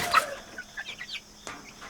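Chickens in a damp coop bedded with wood shavings give a few soft clucks and chirps, fairly close by, with a brief rustle near the start and a quiet room tone underneath.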